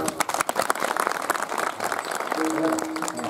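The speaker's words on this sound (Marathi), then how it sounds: "आता या सगळ्या कलाकारांसाठी जोरदार टाळ्या होऊया." Scattered, moderately loud hand claps rise into applause for the performers at a kirtan gathering, with some voices in the background.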